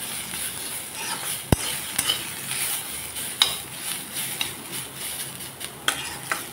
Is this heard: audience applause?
no